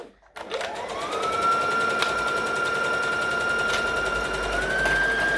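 Sewing machine stitching a curved seam on a Halloween costume, a steady continuous whir that holds for several seconds at close range and fairly loud.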